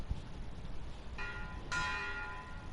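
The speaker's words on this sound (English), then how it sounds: "Ring the bell." A bell rings in the game Metro Exodus, two metallic strikes whose bright tone sustains and slowly decays over a low rumbling background, moderately loud with no talking.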